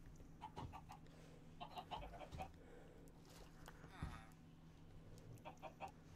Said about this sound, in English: We'll check on the chickens.